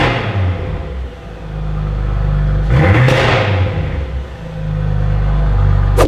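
A tuned Audi RS4 B9 making 680 hp, its engine rumbling loudly and steadily nearby, with a brief rise in revs in the middle before it settles back to a deep idle-like drone.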